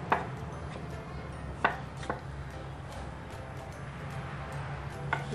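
A knife chops food, likely mushrooms for tom yum with sardines, in a home kitchen: a few sharp, separate cuts spaced irregularly over a low steady background hum, fairly close.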